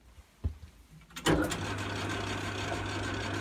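Wood lathe running at about 600 RPM while a sharp gouge takes the rough edge off a blank: a couple of knocks, then a sharp bite as the cut starts, followed by a steady, moderately loud motor hum with scraping.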